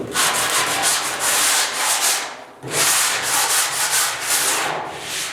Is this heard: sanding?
yes